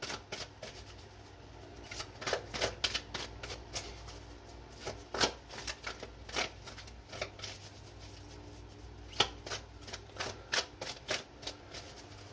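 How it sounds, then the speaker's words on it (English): Oracle cards are shuffled in repeated quick riffling bursts, a steady papery flutter running throughout at close range with no talking. "Just want to give them a really good shuffle before we get into the reading for the week."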